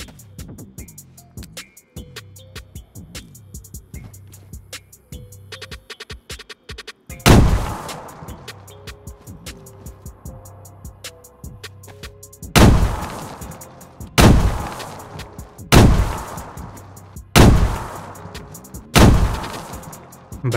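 Six heavy grenade blasts hit a base gate in DayZ (version 1.24), starting as one isolated boom and then coming as a rapid series of loud explosions. Quieter in-game ambience fills the gaps between them.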